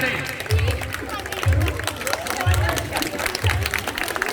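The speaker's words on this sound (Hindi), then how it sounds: "एक बार अपनी अपनी जगह पे खड़ा होकर तालियों से स्वागत करें।" A crowd at a dandiya dance event claps and cheers in a steady wash of applause, with a low thumping beat pulsing roughly once a second underneath and crowd chatter throughout.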